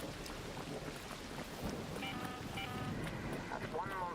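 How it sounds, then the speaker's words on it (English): Thunder from a lightning storm in ARC Raiders rolls as a broad, heavy rumble with wind-like noise, continuous and fairly loud, with faint tonal voice-like traces near the end. "That's one monster of a lightning storm"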